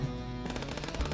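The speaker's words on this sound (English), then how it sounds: "you got a fucking minigun, bro" Rapid minigun fire from the video game FPS Chess, a dense, steady rattle of shots running through the whole short burst with no talking.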